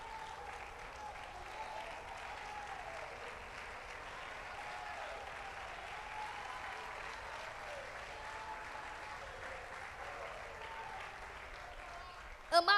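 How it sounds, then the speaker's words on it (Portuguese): A church congregation applauds at a service, sustained steady clapping from a crowd filling the room, with a voice speaking over it. "Pode sentar aplaudindo ao nome do Senhor."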